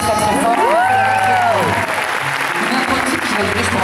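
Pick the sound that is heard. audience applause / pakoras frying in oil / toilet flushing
audience applause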